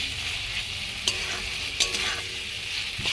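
Spice masala for a chicken stomach curry stir-frying in a pan, a continuous moderate sizzle broken by a few sharp scraping clinks of a spatula against the pan.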